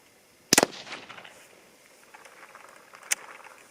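A .22 ARC rifle fires a single sharp, cracking report, followed by a shorter, fainter crack a few seconds later against a quiet outdoor background.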